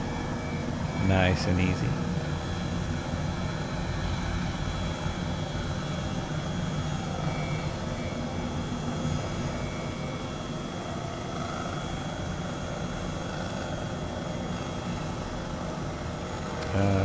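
A steady turbine whine and rotor drone of an H135 helicopter run throughout a landing approach onto a helipad in Microsoft Flight Simulator, continuous and even, with someone briefly speaking over it.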